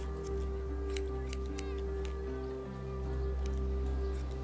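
Scissors in The Walking Dead: The New Frontier video game give several crisp, evenly spaced snips over a steady low hum.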